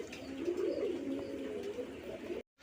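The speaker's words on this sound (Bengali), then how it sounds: "বন্ধুরা এখানে একজন মাক্সি রেসার কবুতর আছে" Maxi racer pigeons coo steadily in a low, rolling murmur close by, the soft throaty calls overlapping for a couple of seconds before cutting off abruptly.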